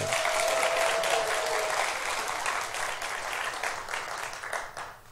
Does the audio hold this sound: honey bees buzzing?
no